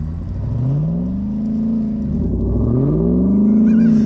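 A Hellcat-powered Jeep Gladiator's engine revs loud and close as it pulls a truck through deep snow, a sustained roar rising and falling in pitch over a steady rumble, with no voices.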